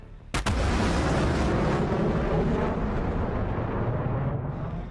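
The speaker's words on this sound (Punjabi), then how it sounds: "ਇਹ ਧਮਾਕੇ ਦੀਆਂ ਆਵਾਜ਼ਾਂ ਪਟਿਆਲਾ ਤੇ ਇਸ ਦੇ ਆਸ-ਪਾਸ ਦੇ ਇਲਾਕਿਆਂ 'ਚ ਸੁਣਾਈ ਦੇਣ ਲੱਗੀਆਂ" A sonic boom heard over Patiala strikes as a sudden loud blast, followed by a long, dense, rumbling roar that stays heavy for several seconds before easing slightly, with no voices.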